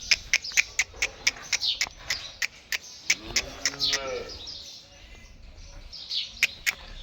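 A cow among a small group of good-quality dairy cows lets out a drawn-out moo midway, surrounded by frequent sharp clicks and chirps from the farm setting.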